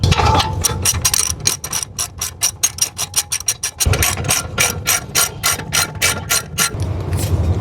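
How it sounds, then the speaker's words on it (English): A ratchet clicks rapidly and loudly while loosening the 17 mm brake caliper bolts on a Lexus GS, IS or RC during wheel bearing and hub work, in two long runs with a short break. "to remove the caliper, there's one bolt up here and there's another one down here, and the size is a 17"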